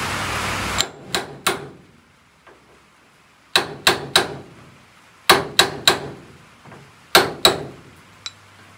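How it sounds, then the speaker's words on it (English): A car body dent is hammered out with the double hammer method: sharp, close metallic blows in quick bursts of three, separated by short pauses. "with a double hammer method here."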